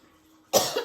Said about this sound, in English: So that perlite is making me cough already.